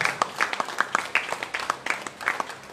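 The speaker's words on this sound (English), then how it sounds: "The clapping should go on" Audience clapping at a ceremony honouring COVID-19 warriors, heard as a steady run of separate, fairly close handclaps from a modest crowd with no talking over it.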